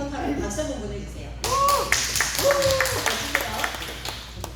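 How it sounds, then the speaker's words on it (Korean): Audience at a church humanities lecture gives a short burst of clapping, starting partway in and continuing under the lecturer's voice, which talks over it. "하버드 대학교에 미리 입학하라고 박수 한번 보내주세요"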